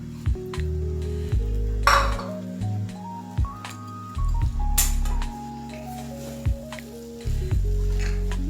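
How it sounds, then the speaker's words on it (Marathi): Crushed peanuts and rice are stirred in a pan, with repeated scraping and clinking of a spoon against the metal over a low sizzle. The strokes come in an uneven rhythm and sound close. "याच्यामध्ये आपण आता शेंगदाण्याचं कूट, घालून जरा परतून घेऊया"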